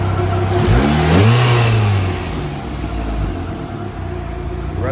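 Mazda Miata engine revving up quickly from idle and settling back, a loud close mid-pitched rise and fall with no talk.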